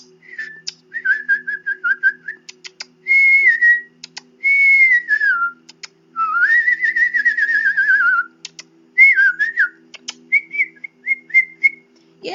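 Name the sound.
woman imitating bird noises by whistling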